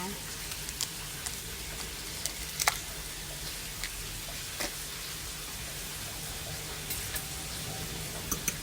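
Eggs sizzle and fry with squid in a hot pan, a steady low crackle with a few light ticks and utensil taps throughout, at a quiet level.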